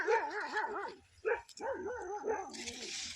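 A dog at a rural Punjabi home barks and whines close by in a few short, wavering bursts, with quiet background noise between them.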